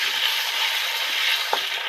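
Salted potato pieces fry in an open pan, a steady close hiss of oil with one brief stir near the end and no talk.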